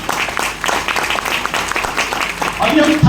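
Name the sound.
audience applause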